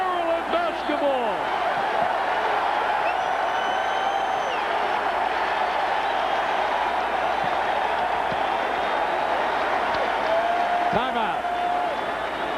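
Dense, loud crowd roar fills a college basketball arena during a Wake Forest at Maryland game in 1997, sustained cheering with occasional whistles and squeaks, a broadcast announcer's voice running over it.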